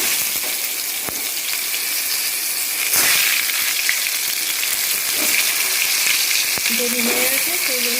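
Pointed gourds frying in hot oil in a frying pan: a loud, steady sizzle and crackle throughout, with occasional sharp clicks and scrapes of a utensil against the pan.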